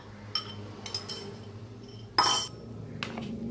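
Boiled instant noodles tipped into a large bowl in a home kitchen, with a few light clinks of utensils against dishes and one louder clatter near the end.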